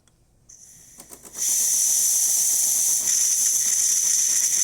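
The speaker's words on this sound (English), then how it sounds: "There's some steam in the system." A few faint clicks, then a loud, steady hiss of steam bursts out from a DeLonghi Magnifica espresso machine and keeps going, close and continuous.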